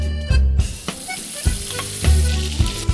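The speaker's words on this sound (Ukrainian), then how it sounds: "Обсмажуємо його до м'якості на вершковому маслі." Fish sizzles and crackles steadily in butter in a hot pan, with intermittent scraping stirs and knocks of a utensil, close and fairly loud.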